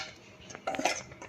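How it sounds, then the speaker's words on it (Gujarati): A spoon stirs and clinks against a bowl while mixing bajra pudla batter, a few quiet metallic taps and scrapes close by. "મિત્રો આને હવે સારી રીતે આપણે મિક્સ કરી દઈશું."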